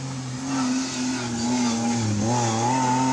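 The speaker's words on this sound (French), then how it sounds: "Ça tourne rond également, sa voiture." A Peugeot race car engine at a 2020 hill climb hums steadily at high revs, fairly close and loud, its pitch dipping briefly and then climbing again as the car accelerates, with no voices over it.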